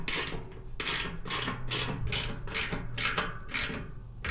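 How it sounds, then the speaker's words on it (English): A 13mm socket ratchet tightens a nut during an upgrade on a Tesla Cybertruck, giving a steady run of about eight loud, close ratcheting bursts in even rhythm with no talk. "Take the 13mm socket, tighten that down."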